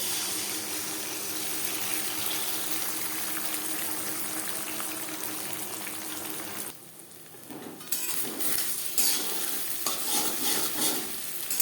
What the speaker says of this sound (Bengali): সবার প্রথমে আমি ডিমের ভুজিয়া তৈরি করে নেব